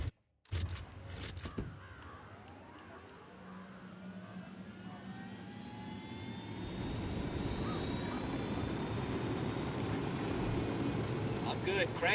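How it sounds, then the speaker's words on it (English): A helicopter in a video game, rotor and engine noise building from faint to a loud steady roar, preceded by brief sharp bursts near the start. "Helicopter."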